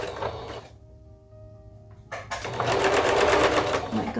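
A sewing machine back-stitches a fabric bow: a short burst of whirring, a quiet pause, then a longer, louder close-up run of rapid stitching.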